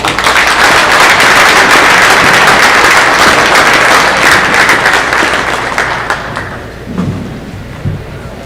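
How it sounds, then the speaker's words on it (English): Crowd applause at a high school wrestling meet on Military Appreciation Night, Grand Forks Central versus Hillsboro/Central Valley in North Dakota: dense, loud clapping fills the gym for about six seconds, then fades to scattered claps and thumps. "Please give them a big round of applause."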